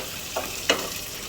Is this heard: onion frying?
yes